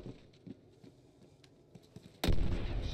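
Scattered gunshots crack at a distance in The Last of Us, a few muffled pops spread over the first seconds before a loud, close burst of fire with a rumbling tail takes over.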